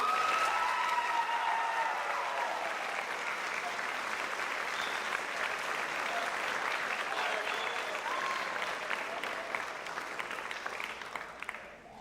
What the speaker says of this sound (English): Please give a round of applause for the drill team.